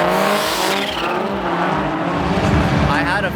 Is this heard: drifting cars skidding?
yes